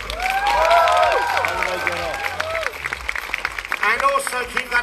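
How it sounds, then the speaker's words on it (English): An audience at the Miss World 2018 Designer Award in Sanya applauds and cheers the winners, a broad, sustained clatter of clapping and crowd noise mixed with music and a host talking through it. "A big round of applause for our winners."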